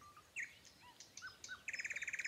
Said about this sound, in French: Les oiseaux s'interpellaient de branche en branche comme pour se dire bonsoir.